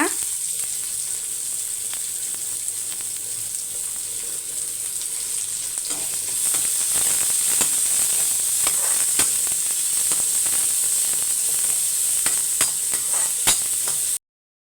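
Onion sautéing with crushed skin-on garlic in a pan: a steady, loud, close sizzle with a bright hiss that swells after a few seconds, broken by scattered crackles and stirring clicks, with no talking.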